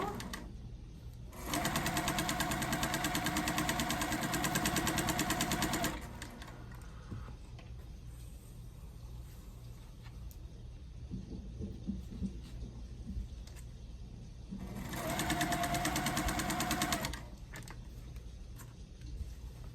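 A sewing machine stitches quilt rows in two loud steady bursts of rapid mechanical whirring, each a few seconds long, with quieter handling and room sounds between them.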